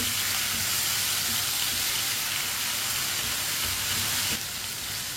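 Chicken pieces fry in a pan on a lowered flame for a karela and chicken dish, giving a loud, steady broadband sizzle throughout with faint spoon stirring underneath and no talk.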